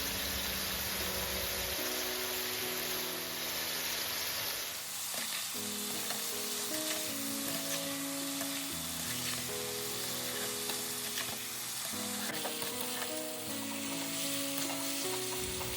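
Fish-oil vegetable chorchori frying in a pan, a steady close sizzle with stirring and scraping running throughout, loud and continuous with no voices.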